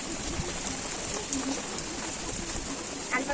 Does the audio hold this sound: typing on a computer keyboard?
no